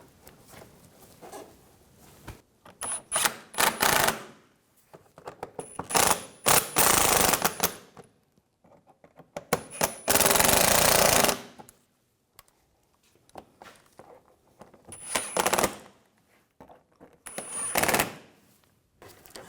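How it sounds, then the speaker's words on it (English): Short, separated bursts of a power tool driving fasteners on a 2010-2014 Volkswagen GTI 2.0L, each a few seconds long, close and fairly loud with quiet gaps between them. "We'll tighten those down."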